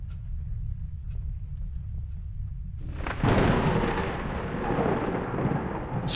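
Rolling thunder from a spooky sound effects CD, opening with a low steady rumble before a loud crack breaks into a broad roaring roll that carries on to the end, with no talking.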